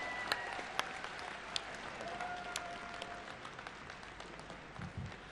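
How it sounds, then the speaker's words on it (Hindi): Applause from a crowd at a political rally for a BJP candidate in Khajuraho, heard faint and distant as a steady wash of clapping with scattered sharper claps. "खड़े होकर जोरदार तालियों से आदरणीय स्मृति दीदी को आमंत्रित करिए, जोरदार तालियों के साथ"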